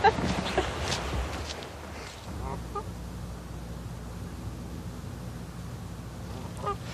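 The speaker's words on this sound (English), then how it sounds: "There's a Canada goose on its nest." A Canada goose near its nest of grasses and reeds gives a few honking calls, loudest at the start and again near the end, over steady outdoor background noise.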